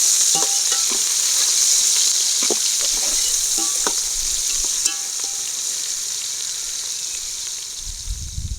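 Onions frying in oil in a pan for egg biryani, a continuous bright sizzle with occasional light clicks of stirring, steady and close throughout.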